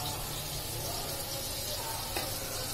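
Cardamom, cinnamon and chopped carrot frying together in a pan for pulao, a steady close sizzle that runs unbroken throughout, with one brief clink near the end.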